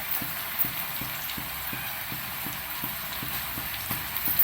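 Okra mixture deep frying in hot oil, a steady soft crackling hiss with faint regular clicks running throughout, fairly quiet and with no talk.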